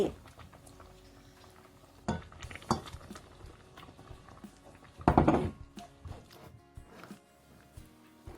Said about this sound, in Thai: พอน้ำเริ่มเดือดอีกครั้งก็จะใส่หมูที่หมักไว้